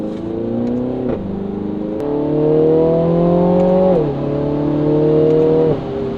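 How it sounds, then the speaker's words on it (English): A 2022 Mini Cooper JCW Clubman engine revs up and down in steady surges, loud and close, with a few sharp backfire pops breaking through between the throttle blips. "You can hear the little bursts of backfire on there."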